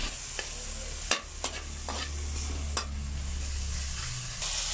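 Lomi ingredients are stirred in a frying pan over a constant sizzle, with a few distinct scraping knocks of the utensil against the pan, close and moderately loud.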